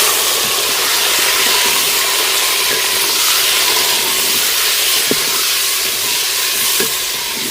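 Chicken hits a hot pan and sizzles loudly and steadily, a bright, dense frying hiss with a few small clinks of stirring, while cooking chicken nihari at home.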